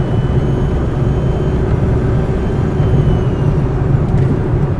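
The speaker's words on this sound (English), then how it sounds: "You hear the motor just a little bit." A quiet Ampmobiles electric vehicle driving in gear, a steady close rolling hum of motor and road noise with a faint high whine, constant throughout.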